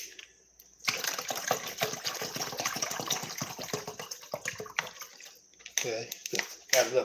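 Tap water runs into a cooking pot from a kitchen faucet, a strong continuous gushing stream lasting several seconds before stopping, close and loud, followed by brief handling clatter.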